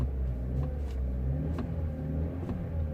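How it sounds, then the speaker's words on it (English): A Vauxhall Corsa D 1.4 engine in limp mode with a fault light on rumbles steadily with a low, continuous drone, rising slightly in short revving surges, close by and with no voices. "if I keep revving it like that, it actually sounds good."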